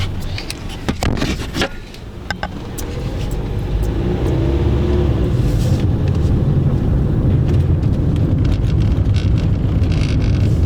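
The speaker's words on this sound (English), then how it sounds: "I can show you as I'm driving out" A car rolls along a track out of deep woods, its low engine rumble and road noise building to a steady, close drone with wind buffeting the microphone and a few clicks and knocks early on.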